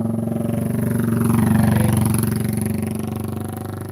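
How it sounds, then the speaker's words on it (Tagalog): A loud motorcycle engine rumbles close by with a steady pulsing drone that swells and fades slightly as it passes, heard alone without talk. "Lakas ng motor niya eh."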